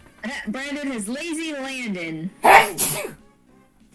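A single sharp sneeze bursts out near the end, loud and close, right after a stretch of people talking.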